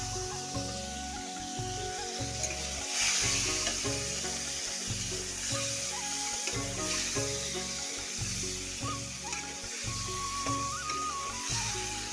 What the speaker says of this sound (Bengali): তেলটা এসে গেছে এবার আমি মাছগুলো দিয়ে দেবো